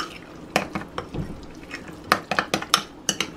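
Seasonings for a roast pork leg mixed in a bowl, uneven clinks and scrapes of a utensil against the dish with soft wet stirring between, close and moderately loud, no speech.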